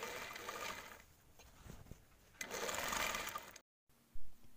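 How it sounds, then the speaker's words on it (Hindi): Sewing machine stitching polyester padding into a round roti cover, close fast needle chatter in two bursts with a pause between, then a brief gap and a short thump. "अब हम जो है ये सारी सिलाइयाँ लगाकर, ये राउंड वाली शेप में पोलिस्टर लगाकर इसको मजबूत कर लेंगे"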